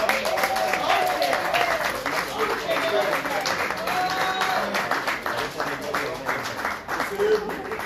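Guests at a civil wedding ceremony applaud the parents, steady clapping from a crowd filling the room at moderate volume with voices mixed in throughout.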